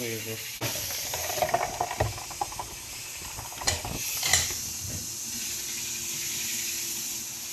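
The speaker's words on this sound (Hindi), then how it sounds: "पकौड़े फ्राई हो रहे हैं" Pakoras fry in hot oil with a steady, bright sizzling hiss, broken by a few sharp clinks and scrapes of stirring.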